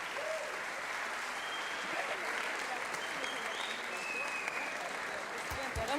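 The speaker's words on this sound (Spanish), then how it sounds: "Así que démosle un aplauso y pasemos al lado íntimo." A club audience at a Nerd Nite science talk in Santiago applauds steadily for about six seconds, a dense, even wash of clapping from many hands with occasional voices calling out over it.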